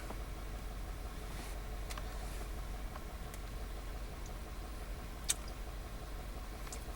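A Volkswagen Tiguan engine idling with a cylinder 2 misfire, a low, steady rumble heard close up, with faint occasional ticks and one sharp click near the end.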